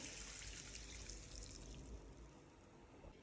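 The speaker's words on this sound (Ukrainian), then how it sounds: "Додам сюди трішки води" Water pours steadily into a pan of chicken fillet with paprika and herbs for a few seconds, a soft continuous splash with a faint sizzle, quiet and close.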